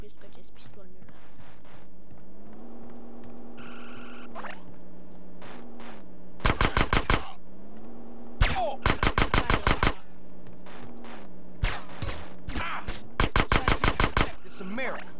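Bursts of video game gunfire from GTA San Andreas, rapid automatic volleys in several loud clusters over a humming engine-like game background, with no talk.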